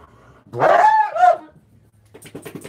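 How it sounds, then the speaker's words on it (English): Dogs playing with each other bark and yip close by in a couple of loud bursts, followed by softer scuffling sounds. "dogs play with each other, and one of them caught the other."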